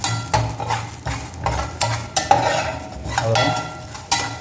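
Garlic and fennel sauté in a pan for a fried fish kuzhambu, with rhythmic scraping strokes of a spoon over a light sizzle, close and fairly loud, as one brief spoken word passes.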